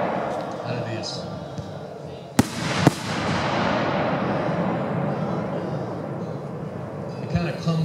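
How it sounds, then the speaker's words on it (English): A Vulcan 5-inch sweeper ring firework shell bursting: two sharp, loud bangs in quick succession, followed by a long, broad crackling hiss that slowly fades, with background noise throughout. "This is the Vulcan 5-inch sweeper ring."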